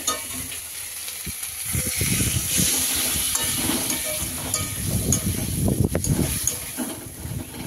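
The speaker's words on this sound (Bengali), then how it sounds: "এবার আমি ভালো করে কষাবো, একটুখানি জল দেবো" Fish curry masala with tomato, potato and taro being sautéed in a little oil with a splash of water, a continuous close sizzle and hiss broken by spoon scrapes and knocks against the pan.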